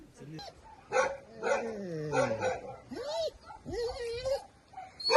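Large dogs bark and whine in a village home, a run of close, loud, pitch-bending yelps and barks with a voice heard briefly between them.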